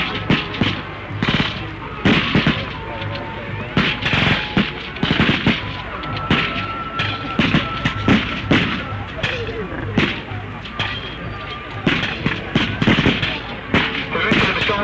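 Guns firing in a military display at the Enfield Festival, 1972: a dense, rapid barrage of cracking shots and bangs, loud and continuous over outdoor crowd noise, with a voice talking faintly beneath.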